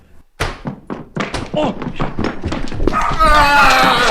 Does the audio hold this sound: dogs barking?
yes